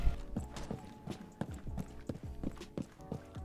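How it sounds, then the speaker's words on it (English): Horses clip-clop in Rainbow Six Siege on the Emerald Plains map, a steady run of close, crisp hoof strikes over a low in-game background hum. "Horses."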